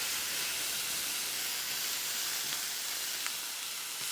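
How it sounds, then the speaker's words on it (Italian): Brandy flaring up in a hot pan with green peppercorns for a pepper fillet sauce, giving a steady, loud whooshing hiss and sizzle that holds evenly throughout, with a couple of faint crackles near the end. "Andiamo a flambare"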